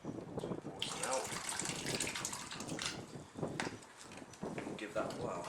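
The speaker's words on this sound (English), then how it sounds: "I'm actually going to pour a bit of water out because there's a bit of mush in there" Water poured out of a container of soaked sawdust and paper mush being made into homemade logs, a steady close splashing and gushing that runs almost continuously with brief breaks.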